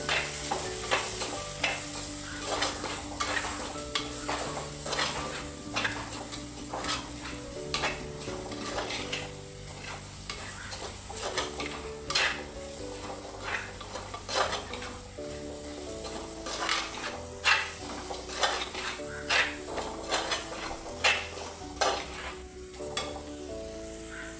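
Chilli powder stir-frying in a pan for a Kerala-style crab curry gives a continuous sizzle, with a busy rhythm of spoon clicks and scrapes against the pan running the whole time, close and fairly loud.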